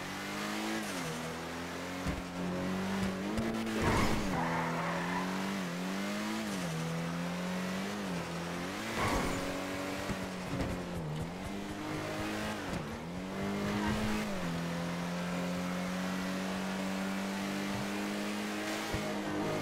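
Ubermacht car in the GTA Online racing game, its engine droning and revving continuously with rising and falling pitch through gear changes, plus occasional tire squeal, loud and close with no talking.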